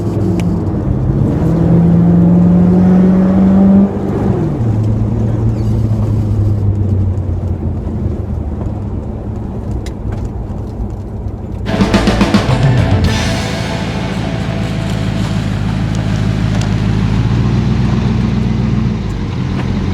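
A 1976 Chevy Silverado C20 Camper Special truck engine pulls strongly as the truck drives off, its steady loud drone rising in pitch, then a gear change and more acceleration under continuous road noise.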